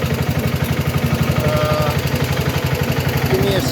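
A vehicle engine idling in neutral after a cluster gear repair, a steady close rhythmic low throb with regular pulsing beats and no grinding noise, a faint voice briefly in the background.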